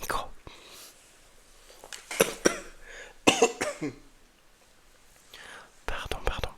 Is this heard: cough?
yes